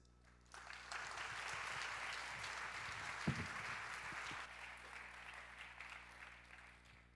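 Sustained applause from a church youth worship congregation welcoming a speaker to the front, a steady wash of clapping that swells in, holds for several seconds, then slowly tapers off.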